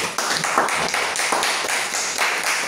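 A church congregation claps together during a worship service, producing steady, dense applause with crisp rhythmic taps throughout, loud and close, with no voices breaking through.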